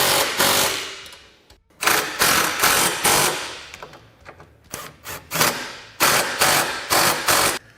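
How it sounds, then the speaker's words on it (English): A power tool, likely an impact driver, tightens winch mount hardware on a Honda Talon 1000. Repeated loud bursts of rattling hammering are separated by short pauses, close up and with no voices. "now we're going to go through and fully tighten all the hardware"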